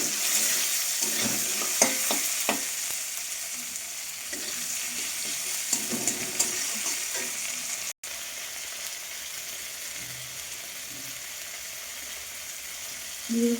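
Tomato and green chilli masala sizzles steadily in a kadai, a continuous close frying hiss with occasional stirring scrapes and small pops, no talking.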